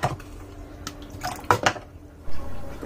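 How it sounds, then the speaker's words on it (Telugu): A container scoops standing water out of a clogged dishwasher, producing scattered close sloshes, drips and plastic knocks in short irregular bursts with no talking. "వీలైనన్ని వాటర్ అయితే తీసేస్తున్నాను ఈ డబ్బాతోనే"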